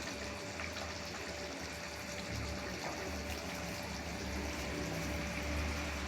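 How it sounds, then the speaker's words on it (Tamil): Water pours steadily into a cooking pot of chicken being prepared with masala, a continuous moderate trickling stream with no speech over it. "தண்ணி ஊற்றி இதுக்கேற்ற உப்பு போடணும்."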